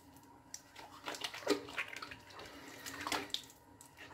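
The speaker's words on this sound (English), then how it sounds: "Gonna rinse off my face with it." Running tap water splashes at a sink during a quick face rinse, with irregular splashing and dripping bursts at close range and no talking.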